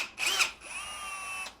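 A power drill whirs steadily on fiberglass boat hull work, starting with a rougher burst then holding a sustained high whine for over a second before cutting off, close and fairly loud.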